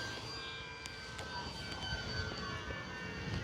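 An Eflite P-51D Mustang 1.2m RC model warbird at about half throttle, a steady whining motor drone with whistling tones holding at even loudness through the clip, moderately distant and with no talk.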